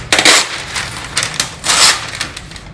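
Grease-proof paper foil tears off a roll in two crisp, crackling rips, loud and close, with brief rustles between them and no talking.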